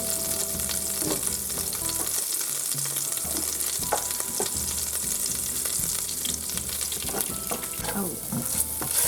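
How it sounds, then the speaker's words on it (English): Garlic fries in oil in a pan used for stuffed zucchini with shrimp, giving a dense, steady sizzle up close, with scattered clinks and scrapes of stirring over it. "Cook the garlic for a few seconds."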